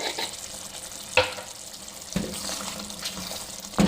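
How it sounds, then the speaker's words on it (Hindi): Beef shinwari karahi with crushed black pepper frying in oil over a high flame, a continuous close sizzle with a few sharper stirring clatters rising out of it. "हाई फ्लेम पे इसको भूनेंगे बस 2 से 3 मिनट के लिए"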